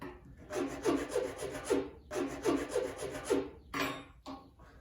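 The edges of a rope groove cut into PVC pipe are smoothed by hand, producing two close bursts of quick rhythmic rasping strokes, each about a second long, followed by a few shorter scrapes.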